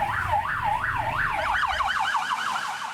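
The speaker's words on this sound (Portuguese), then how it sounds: "A gente acorda com a sirene tocando," A wailing emergency siren in Petrópolis sweeps up and down repeatedly, fairly loud and continuous over low background traffic rumble.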